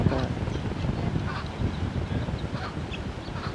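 Chickens on the Pali coast clucking and calling, several birds nearby with squawks scattered over steady outdoor background noise.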